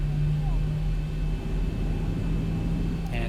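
Boeing 737-800 engines in a flight simulator game, a steady loud rumbling engine drone with a constant tonal hum throughout, near and unbroken, with a faint whine at the very end.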